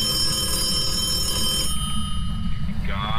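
In the Phasmophobia ghost-hunting video game, a telephone rings as a steady electronic tone for about a second and a half, then cuts off. A constant low hum runs underneath.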